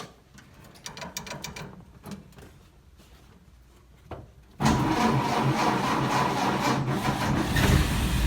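A 1931 Ford Model A truck engine pushes through a brief slow cranking phase, then catches and settles into a loud, steady running idle that continues to the end.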